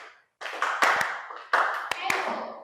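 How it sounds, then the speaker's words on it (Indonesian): A classroom of students claps in a fixed rhythmic pattern, several sharp, loud hand claps standing out over a continuous wash of many hands and voices. "Jadi tepuk tangan 1 seperti biasa."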